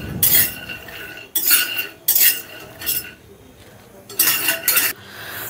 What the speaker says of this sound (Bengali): এবার আমরা সিডসগুলো দিয়ে দিলাম কড়াইয়ে